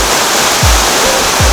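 Helton Creek Falls in North Georgia pours down in a loud, close, continuous roar of rushing water that fills the whole scene, with low thumps breaking through now and then.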